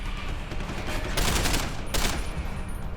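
Two short loud bursts of automatic weapon fire from Deus Ex: Human Revolution stand out over a steady rumbling game backdrop, with a brief gap between them.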